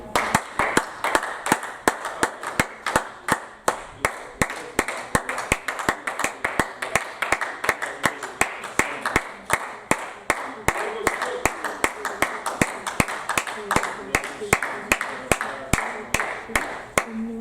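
A church congregation claps and applauds together in a steady, sustained rhythm of sharp, dense hand claps filling the room, with voices mingling underneath throughout.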